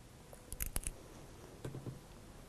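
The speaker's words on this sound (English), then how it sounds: "So I just cut a regular strip in half." Scissors snip a strip of false eyelashes in half, giving a couple of quick, close, faint cuts with brief clicks and little else around them.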